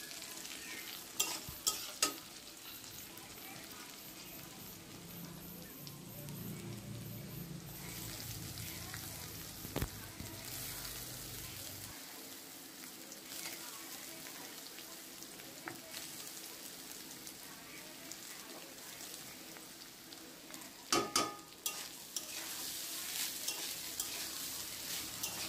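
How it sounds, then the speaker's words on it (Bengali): Egg fried rice with carrot and capsicum stir-fried with a spatula, a long steady sizzle with occasional scrapes and taps of the spatula against the pan, a few sharper clusters of clinks near the start and later on. "ভাতগুলোকে দেখো খুব সুন্দর নাড়াচাড়া করে ভেজে নিয়েছি।"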